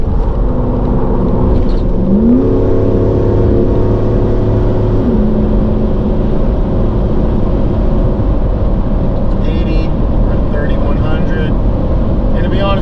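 Toyota Sequoia on 35-inch tires with body and suspension lifts and a 5.29 re-gear hums steadily as it drives at highway speed, the engine note shifting slightly as it downshifts, loud and continuous inside the cab.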